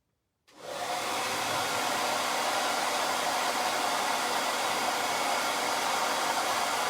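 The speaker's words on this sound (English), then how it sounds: "I need to blow dry that first" A hair dryer switches on after a half-second of silence and blows steadily and loudly on a printed shirt to dry the ink, a constant broadband whoosh with no speech.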